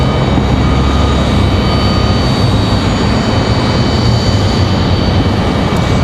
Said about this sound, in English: This is American Airlines 2023 coming in from Charlotte. Another A321.